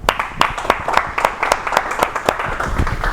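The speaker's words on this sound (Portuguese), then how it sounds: "Queria pedir uma salva de palmas no nosso esforço." Scattered, uneven clapping from a lecture audience at a public-sector talk on Governo 3.0 and participatory innovation in Espírito Santo, a sparse run of sharp claps lasting a few seconds, fairly close.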